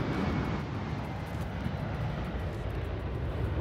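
An aircraft carrying a rocket for a satellite launch, just after wheels-up on takeoff, gives a loud, continuous, broadband engine roar that stays steady throughout with no speech.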